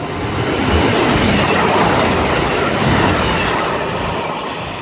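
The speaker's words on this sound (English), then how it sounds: "Trains whiz past like lightning bolts." Train rushing through Ashchurch station in the rain, a loud, steady broadband roar that holds for several seconds and fades slightly at the end.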